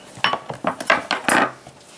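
A knife cuts through a tomahawk steak on a board, making a quick series of close scrapes and dull knocks that ends with a sharper, louder stroke.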